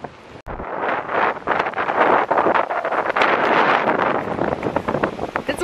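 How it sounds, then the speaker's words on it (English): Strong gusty wind buffets the microphone, a loud fluctuating roar with rushing bursts throughout. "It's windy. Your hair is flying."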